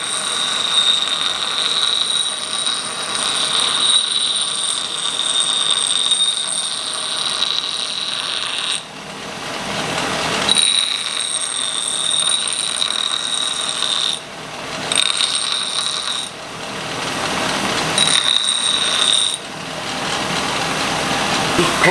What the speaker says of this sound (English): we're gonna come over here to the grinder of death and just kind of take the corner off the struck end